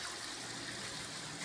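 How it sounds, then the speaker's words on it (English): Water pours from a pipe into a DIY aquaculture fish tank, a steady faint gushing trickle with no speech over the brief stretch. "you're going to see the force of the water become stronger and stronger"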